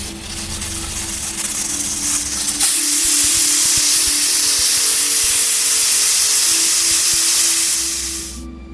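A loud, sustained steam hiss from a pressure cooker whistle cooking mint rice bursts out after a short quieter stretch, blowing strongly for several seconds before cutting off abruptly.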